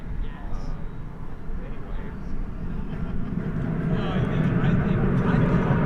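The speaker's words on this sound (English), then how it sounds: "There goes American Flight" An American Airlines airliner takes off from DFW in the evening, a low jet roar building steadily louder toward the end, with voices talking over it.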